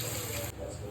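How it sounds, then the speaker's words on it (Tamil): Tamarind water is poured into a crab curry as a brief, soft splashing gush that cuts off halfway through. "இப்போ கரைச்சி வச்ச புளி தண்ணியை ஊற்றிக்கலாம்."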